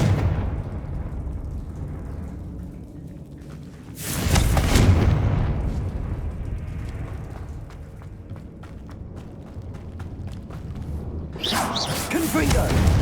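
Booming spell blasts of Confringo and Bombarda in Hogwarts Legacy, two heavy explosive bursts with rumbling low ends, one midway and another near the end, over a steady droning background with a voice calling out spells.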